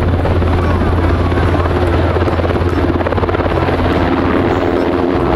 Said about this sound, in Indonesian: ada helikopter sangat bagus sekali nih teman-teman